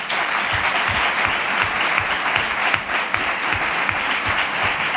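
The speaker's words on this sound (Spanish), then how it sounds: "El aplauso es merecido." Audience applause at a political candidacy presentation for Izquierda Unida in Ronda, a loud, dense crowd clapping steadily throughout, with some rhythmic low thumps within it.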